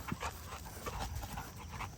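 Cane Corso puppy panting hard after running, quick soft breaths repeating steadily and close to the microphone, with faint whimpery tones and no talking.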